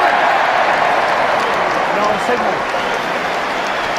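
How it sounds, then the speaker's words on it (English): A packed Twickenham rugby crowd at an England versus Fiji match roars in a steady, loud, dense swell that holds throughout, with a commentator talking over it. "Big heave called for by the Twickenham crowd."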